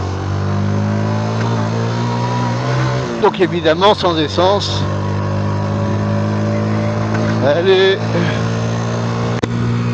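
A 125cc motorcycle engine idles with its fuel tap shut, running steadily on the last fuel before it stalls, with a person talking over it.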